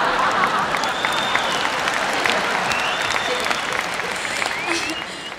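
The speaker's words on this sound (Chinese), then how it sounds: "不过这个吹口哨的声音有一点偏心呐" A live stage-show audience whistles, with several sliding, wavering whistles rising and falling above a continuous wash of applause and crowd noise.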